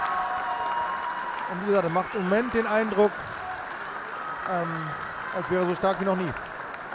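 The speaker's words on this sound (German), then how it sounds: "Ein Applaus für unsere tapferen also Kämpfer." Arena crowd applauding boxers after a professional title fight, a steady wash of clapping throughout while someone commentator talks over it in German.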